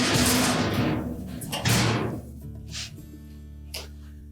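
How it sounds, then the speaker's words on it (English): A storage drawer is slid back into a Frigidaire range: a sliding scrape, then a firmer thump and a few lighter knocks, close by with no talk. "And then we can reinstall the storage drawer."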